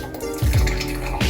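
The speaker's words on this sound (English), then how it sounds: "it's ready and I'm gonna pour it inside" Freshly made chai pours into a cup or pot in a short, close liquid stream lasting about a second, with a brief clatter of utensils at the start.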